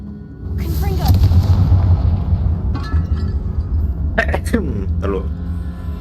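In the Hogwarts Legacy video game, a Confringo spell explodes with a heavy rumbling blast that swells and lingers for several seconds, followed by lighter crackling impacts, as a player speaks over it.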